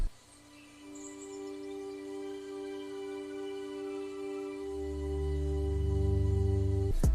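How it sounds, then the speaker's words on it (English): A sustained synthesizer tone holds steady, with a low pulsing bass swelling in partway through and ending in a sharp cutoff. "I recorded a synth here."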